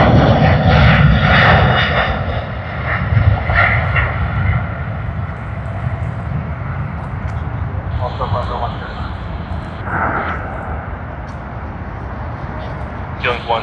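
Aircraft engines at Sydney Airport drone loudly at first, then ease into a steadier rumble, with brief radio-style talk and tones breaking in partway through.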